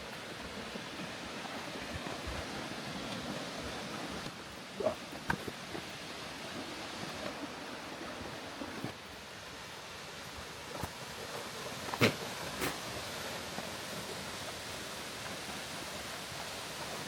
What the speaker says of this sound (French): on va arriver en haut de la cascade